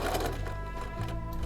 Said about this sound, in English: feed it into the foot so that I don't risk sewing over a finger